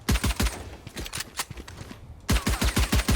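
Suppressed pistol fire in a tactical shooter game, rapid bursts of sharp clicky shots in two clusters separated by a brief pause, loud and close with no talk.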